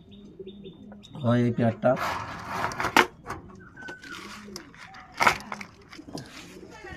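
Pakistani pigeons coo in soft, repeated low rolling calls close by, with a few chirps mixed in while someone talks over them.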